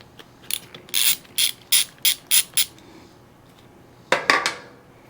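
While a fuel hose comes off a fuel filter on a Vevor 35-gallon fuel tank, a run of six quick metallic ratcheting bursts sounds close by. After a pause, two more clattering bursts follow.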